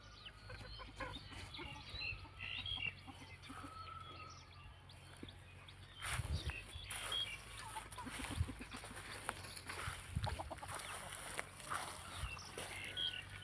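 Chickens cluck and murmur at a distance while being fed in the morning, over a steady outdoor hum, with occasional louder rustles and bumps.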